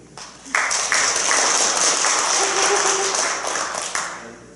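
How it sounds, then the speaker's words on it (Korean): An audience at a lecture breaks into applause after a short pause, a dense burst of clapping that holds steady for several seconds and then thins out, with a voice speaking briefly over it. "이번 달인데 박수 한번 주시기"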